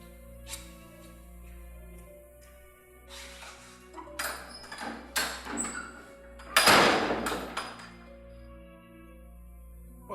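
A door opening in the Tagalog version of The Rich Fool: several knocks and creaks build up, then one loud clattering thud, over a steady low musical hum.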